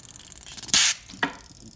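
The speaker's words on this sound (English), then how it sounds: "just start spraying it little by little until it builds pressure" Two short hissing bursts from a spray can, a longer one followed by a brief second puff, close by.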